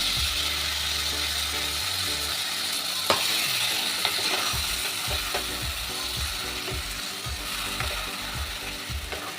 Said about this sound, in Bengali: খুব ভালো করে ভাজা হয়ে গেছে এবার দিয়ে দেব স্বাদ মতো চিনি আর দেব এই মশলা বাটাটা